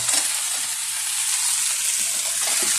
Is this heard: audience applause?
no